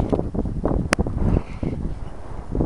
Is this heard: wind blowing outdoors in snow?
yes